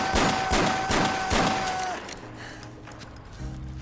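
Gunfire in a climactic movie scene from Superbad, with a burst of rapid, loud shots over dense background noise, then a quieter stretch of scattered clatter.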